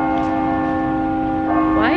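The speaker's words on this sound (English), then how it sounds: "I've never been in this area when the bell rings." A loud church bell rings close by in Seoul, South Korea, with a sustained, ringing tone, and a voice starts speaking over it near the end.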